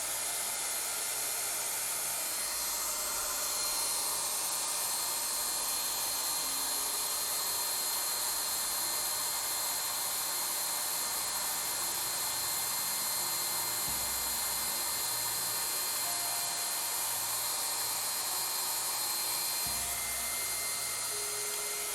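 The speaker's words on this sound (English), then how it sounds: "That sound you hear in the background is my hair dryer." A hair dryer runs indoors as a steady, continuous broadband whoosh and whine that holds the same level throughout, moderately loud, with faint low-pitched background sounds beneath it and no talk.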